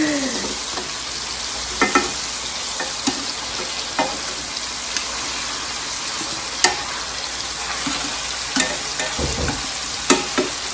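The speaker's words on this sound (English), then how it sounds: "not only is it browning the meat, it's searing that flavor inside of the meat" Roast beef pieces browning and searing in a hot pan give a steady, close sizzle and frying hiss, broken by occasional clinks and scrapes as the meat is stirred and turned.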